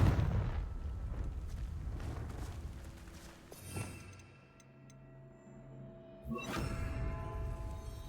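The Confringo blasting spell goes off in Hogwarts Legacy with deep rumbling booms. A heavy blast is followed by a quieter stretch, then a second booming burst with a lingering low roar.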